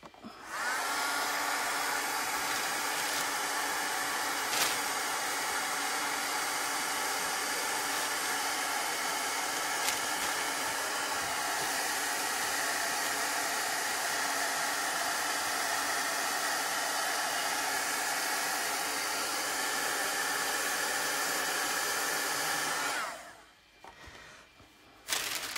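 A hair dryer blows steadily and loudly for about twenty-three seconds while drying a chalk paste transfer, then cuts off near the end.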